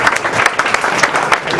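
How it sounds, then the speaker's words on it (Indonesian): Close, lively applause from an audience at a stand-up comedy show at Omah Munir, loud and dense with distinct individual claps popping out of the steady patter. "Tepuk tangan untuk Omah Munir."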